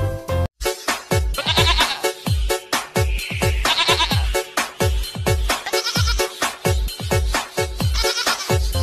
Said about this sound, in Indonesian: Ini ada kambing teman-teman.